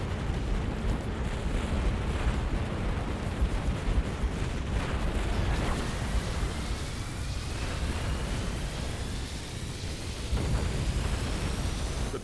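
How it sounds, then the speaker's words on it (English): Massed units in the Halo Wars real-time strategy game open fire on a giant Scarab walker, a dense continuous roar of explosions and blasts with rising whistling streaks, loud and sustained throughout with no talk. "I'm going to select everything I have and get it to fire at that Scarab."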